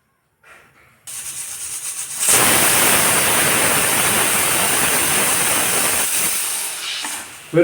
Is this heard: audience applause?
no